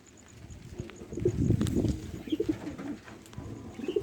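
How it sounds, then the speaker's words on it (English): Tippler pigeons, a breeding pair with two squab, cooing in low soft bursts, loudest in the middle and then in short repeated phrases, with faint background noise and no talk. "I have my original breeding pair of tippler here, and they're on 2 squab."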